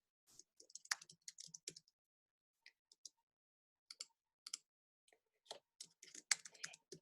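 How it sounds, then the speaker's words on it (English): Close, soft typing on a computer keyboard comes in irregular bursts of keystrokes with quiet gaps between them, starting with a busy flurry, then scattered taps, then another burst. "we're going to type what that document was"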